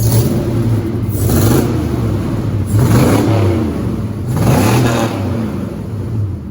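An LS-swapped truck engine with minor exhaust leaks revs up and falls back three times in slow succession, a deep rumbling whine rising and dropping, loud and close.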